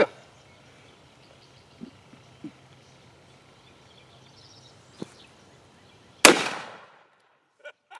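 A shotgun fires a single double-aught buckshot shell outdoors: one sharp, loud blast with a quickly fading echo after a quiet stretch with a few faint knocks.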